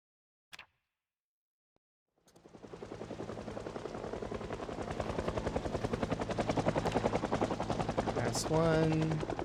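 In a video game, a helicopter's rotor chop starts after a short click and grows into a loud, steady rhythmic beat, with rapid machine gun fire rattling over it and a brief voice near the end.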